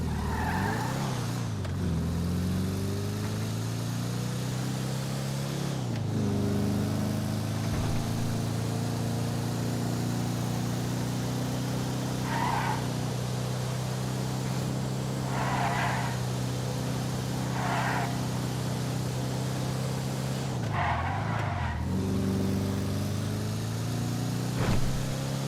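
An Impala SZ car in a video game holds a steady engine drone for the whole stretch, with pitch dips as it brakes, repeated tire squeals and skids on turns, and no talk.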